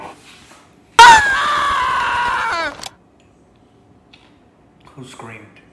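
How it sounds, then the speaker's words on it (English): A person lets out a loud scream lasting nearly two seconds, close and sharp, before it cuts off and faint voices follow. "Who screamed?"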